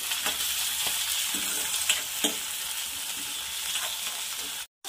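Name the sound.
stirring fenugreek and peas vegetable frying in pan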